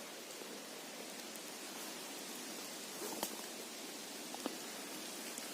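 Soft, steady patter of light rain in an October forest in Ukraine's Khmelnytskyi region fills the quiet background, a faint continuous hiss with a couple of small isolated ticks.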